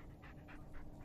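A dog in the Blair Witch video game pants quietly and close by, with about five quick, rhythmic breaths in a row and no voices.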